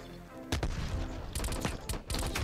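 Bursts of gunfire in Call of Duty Black Ops Cold War, with sharp, loud cracks arriving in quick clusters over steady game background noise.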